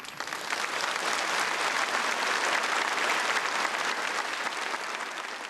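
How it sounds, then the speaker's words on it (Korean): Audience applause for students at a children's union stage show, dense steady clapping from a large crowd that swells quickly and holds loud for several seconds. "우리 무대에서 뛰어난 기억 능력을 보여준 학생들과 심사정원 선생님들에게 박수를 보내줍시다"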